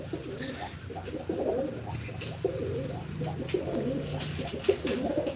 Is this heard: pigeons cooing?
yes